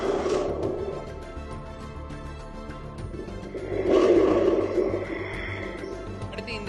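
A Tamil folk foley instrument, the naa muzhavu, played with the tongue to mimic rolling thunder, gives a low, rumbling roar that swells loudly around the middle and then fades, with no talking.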